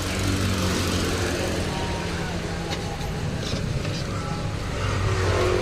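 A 2016 Hyundai Accent engine idles with the air conditioning on, a steady low rumble running continuously while people talk nearby.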